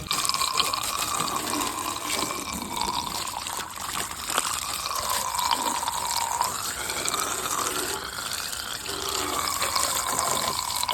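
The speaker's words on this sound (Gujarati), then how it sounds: "તો ગાઈઝ પાણીથી સરસ ધોઈ દીધું છે" Water is splashed and poured steadily over a motorbike being washed at home, making a continuous close rush and trickle with no break.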